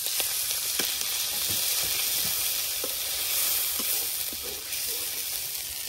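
Water splashed onto onion-ginger paste frying in hot oil, giving a loud continuous sizzle and hiss with scattered crackles and light stirring scrapes, close by.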